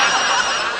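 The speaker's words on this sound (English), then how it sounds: "ever since breakfast my phone's been ringing off the hook." A phone ringtone plays loudly and continuously for under a second, a bright electronic tone with no pauses and no voices over it.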